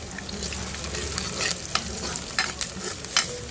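Ginger-garlic paste sizzles in hot oil in a pan while egg pasta curry is cooked, with a steady frying hiss and several sharper scraping stirs of a utensil close by.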